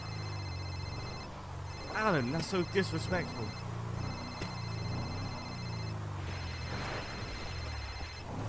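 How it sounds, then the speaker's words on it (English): A phone rings repeatedly in a game roleplay scene, with steady electronic ring tones recurring in bursts under people talking over it. "Bro, whose phone's ringing?"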